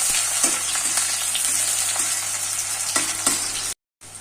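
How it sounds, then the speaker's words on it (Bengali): Chopped onions sizzling in hot oil in a wok, a close, steady crackle broken by periodic scraping strokes as they are stirred, cut by a brief silence near the end. "পেঁয়াজটা দিয়ে একটু নাড়াচাড়া করে দেবো পেঁয়াজটা একটু ভাজা ভাজা করবো"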